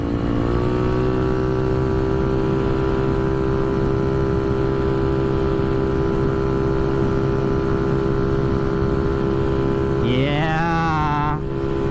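GY6 scooter engine fitted with a Dr Pulley variator and drive face, heard while riding: a loud, steady droning whine holds its pitch, then climbs sharply as the throttle opens near the end.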